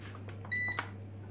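Food dehydrator set to 70 °C, its timer giving one steady electronic beep lasting about a quarter second, followed by a short chirp, over a low constant hum.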